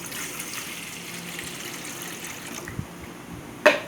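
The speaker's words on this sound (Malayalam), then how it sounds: "നമ്മൾക്ക് ആവി വയ്ക്കുന്ന പാത്രത്തിലേക്ക് കുറച്ച് വെള്ളം ഒഴിച്ച് കൊടുക്കാം" A continuous rush of water pouring into a steamer pot, steady for a few seconds before stopping, followed by a short metallic clank.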